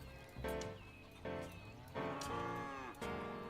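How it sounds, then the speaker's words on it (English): Cows mooing in the city-building game Cities: Skylines, four drawn-out lowing calls in succession, moderately close and fairly clear with no talking. "I hear the cows milling"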